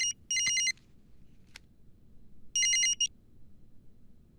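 A telephone rings with two loud electronic bursts of ringing, a short one near the start and another a couple of seconds later, separated by quiet with a soft background hiss and a faint click.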